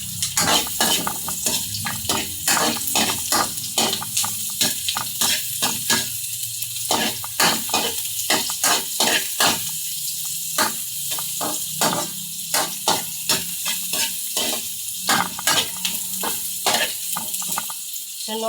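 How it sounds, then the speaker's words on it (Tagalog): Onion sautéing in oil for a bitter gourd (ampalaya) dish, a steady crackling sizzle broken by frequent sharp scraping stirs, close and fairly loud with no talking. "Ngayon, umpisahan na natin igisa ang sibuyas."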